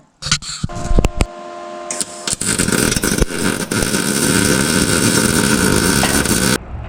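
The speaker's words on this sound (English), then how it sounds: "So I'm gonna see if I can try to get them welded in now." Brackets are welded onto a vehicle frame, an opening flurry of sharp clanks and bangs giving way to a sustained harsh buzzing crackle of welding that runs for several seconds, close and loud, then stops abruptly.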